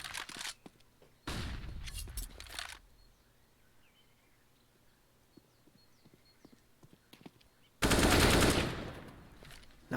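Counter-Strike: Global Offensive gunfire during a competitive match, two loud bursts of rapid automatic shots separated by quieter stretches of distant pops and footsteps.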